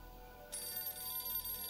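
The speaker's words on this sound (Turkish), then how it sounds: "Aynen bu telefon. Çalıyor." A phone ringtone in the video game S.T.A.L.K.E.R. chimes steadily, a bright electronic ring that starts abruptly and carries on at moderate volume without talk.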